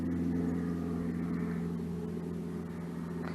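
An airplane drones steadily overhead in the sky above an open football field, a continuous low hum heard alone throughout.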